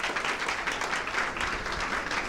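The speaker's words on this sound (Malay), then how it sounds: "Tepukan kepada Evan" Brief, moderately faint audience applause at an indoor gathering, a short burst of scattered clapping lasting a couple of seconds.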